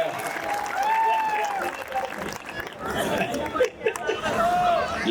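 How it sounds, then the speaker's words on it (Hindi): Audience at a Hindi kavi sammelan poetry recital breaks into clapping, a moderate, fairly dense round of applause mixed with crowd chatter and a voice speaking over it, dipping briefly before resuming. "जरा एक बार जोरदार तालियां बजा करके बताओ"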